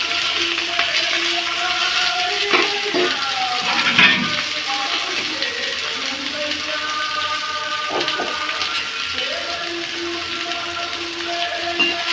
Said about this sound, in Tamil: நல்லா வதக்கி விட்டுக்கிடுவோம் நல்லா வதங்கட்டும்